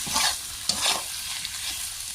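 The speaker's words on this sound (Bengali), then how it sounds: "কলিজাগুলো সিদ্ধ করে ভালো করে ধুয়ে নিলাম তারপরে এখন কড়াইতে দিয়ে দেবো কড়াইতে দিয়ে দিলাম" Boiled goat liver fries in a wok with a steady hiss, broken by a few sharp scrapes and stirs of a utensil, close and moderately loud, no voices.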